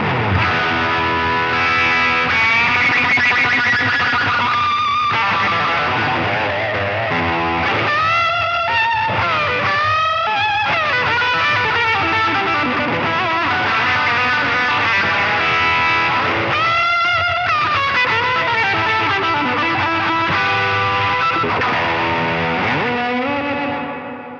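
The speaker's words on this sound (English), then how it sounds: "there is plenty of fun to be had with the NUX Atlantic delay and reverb" An electric guitar plays a long, continuous high-gain riff through a NUX Atlantic delay and reverb pedal and a Chev Tone Messiah amp, loud and distorted with trailing echoes.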